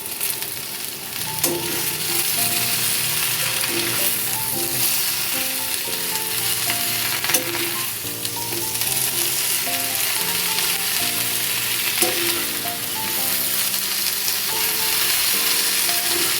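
Bottle gourd greens fry in a pan with mixed vegetables, making a loud, continuous hiss of sizzling oil that holds steady throughout, with faint tonal sounds underneath and no speech.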